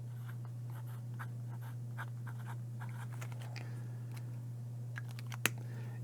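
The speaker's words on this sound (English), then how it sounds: "So this is my fountain pen that I recently got. So let's go ahead and write coffee with it." A medium-point fountain pen writes the word coffee on notebook paper. Soft, close scratching strokes come in quick, irregular bursts with one sharper tap near the end, over a constant low electrical hum.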